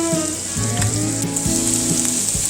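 Sliced onions frying slowly in a pan toward golden, with a steady close sizzle and crackle and a few light scrapes and knocks from the utensil, no talk.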